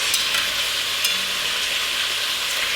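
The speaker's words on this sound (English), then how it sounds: "I'm getting a little bit of beef stew meat going in here in order to add some color" Beef stew meat searing in a hot oiled, salted pan gives off a continuous loud sizzle with crackling spits and a few scrapes from stirring.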